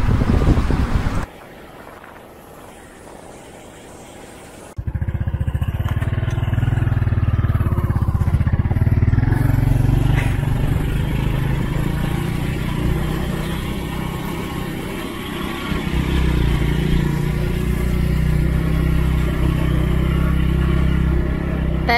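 A small Pop motorcycle carries riders along a road in Piauí, Brazil, heard as a steady engine drone heavily buffeted by loud wind noise on the microphone, with no talking.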